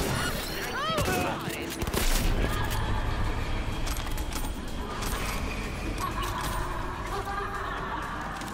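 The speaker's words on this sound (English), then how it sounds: "Why are they shooting at me?" Gunfire in the video game Cyberpunk 2077 crackles in quick bursts of shots up front, then continues as scattered pops and booms over background game noise while a person talks.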